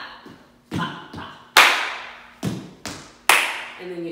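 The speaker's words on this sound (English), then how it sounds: "Stomp and clap. Clap, clap." Stomps and claps from a Copperhead Road line dance ring out in a rhythmic pattern of about seven sharp, loud hits, a mix of heavy floor thuds and bright claps, with short gaps between them and a faint tone underneath.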